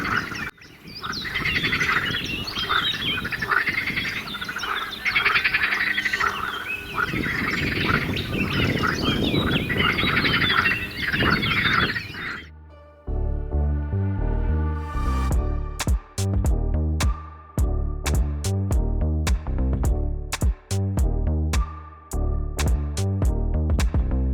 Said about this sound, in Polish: Tam jakiś ptak wodny, czekajcie. Czyżby to był jaszcząb?